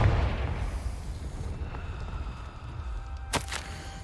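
A Confringo fire spell blasts in Hogwarts Legacy: a heavy rumbling burst that slowly fades, followed near the end by a couple of sharp crackling pops.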